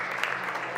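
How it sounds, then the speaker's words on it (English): Spectators at a professional squash tournament clap in a steady, moderately distant patter for under a second, with no voices over it. "Applause."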